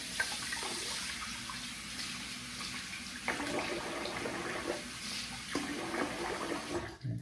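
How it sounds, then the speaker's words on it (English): A bathroom tap runs steadily while a face is rinsed after a shave with a Rockwell 6S safety razor, with splashing bursts as water is scooped and the flow cutting off at the end, close and moderately quiet. "I'm gonna rinse the face"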